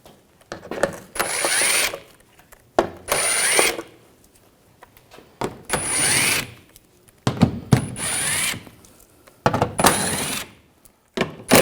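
A power tool with an 8mm socket spins bolts out of the underbody shield on a 2007-2013 BMW X5, in several loud, close whirring bursts separated by short pauses.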